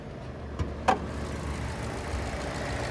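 A 2018 Buick Encore Sport Touring's 1.4-liter turbocharged four-cylinder idles under the open hood, a quiet steady hum with a couple of faint clicks near the start.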